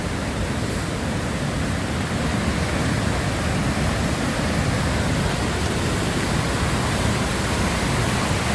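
A flooded river rushing after heavy rain in Jamaica, a loud, steady broadband roar of fast water that stays constant throughout with no speech.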